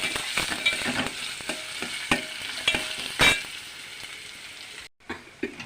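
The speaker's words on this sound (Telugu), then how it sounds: "ఇదిగోండి ఉల్లిపాయలు వేగిపోయినాయి." Onions and hill green chillies fry in a pan with a steady sizzle, punctuated by repeated metallic scrapes and clinks of a spoon stirring against the pan, then a brief quiet gap near the end.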